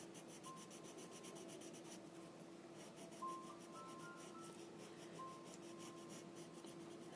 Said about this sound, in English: every time I pick up the pencil, I'm rotating it